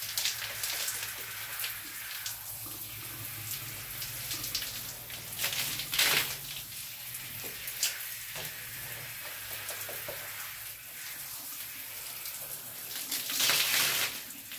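Water runs steadily over hair during a rinse in a home hair-care routine, a broad continuous splashing hiss that swells near the end, close and moderately loud with no talk.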